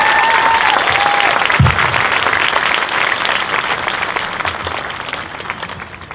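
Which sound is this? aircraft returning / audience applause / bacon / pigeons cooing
audience applause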